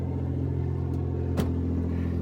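A 3rd-generation Toyota 4Runner engine idles with a steady low rumble and hum, close by, with a brief faint click partway through.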